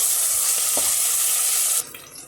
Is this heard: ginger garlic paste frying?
yes